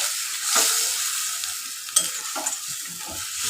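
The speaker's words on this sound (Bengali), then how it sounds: "আদ ধনে জিরে লঙ্কা গোলমরিচ বাটাটা আমি খুলে দিলাম এটা হতে থাক" Ground spice paste of ginger, coriander, cumin, chilli and black pepper frying with onions in a pan, a steady close sizzle with a few scraping stirs and light knocks.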